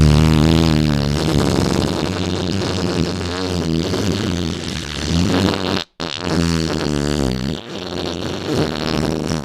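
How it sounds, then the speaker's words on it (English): A squig creature lets rip a massive, vile fart: a long, loud, buzzing, sputtering blast that wavers in pitch for several seconds, breaks off briefly, then rumbles on again, heard alone. "Poodle the squig let rip a massive fart that was so vile and so nasty"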